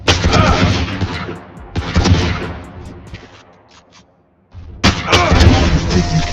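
Loud, close bursts of gunfire in a first-person shooter video game, with heavy booming shots at the start, a brief lull, then another dense volley.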